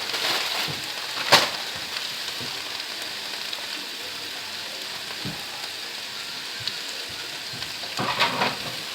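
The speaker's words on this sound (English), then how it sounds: "let's get this all nice and sauteed in here" Chickpea, black bean and vegetable mix sizzling steadily in a pan as a vegan patty mixture sautés, a continuous hiss with a couple of brief louder crackles near the start and end.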